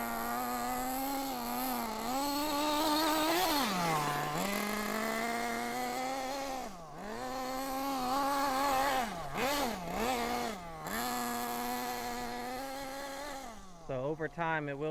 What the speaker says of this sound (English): So over time it will start building more and more power as the engine gets a little bit more loose and worn in.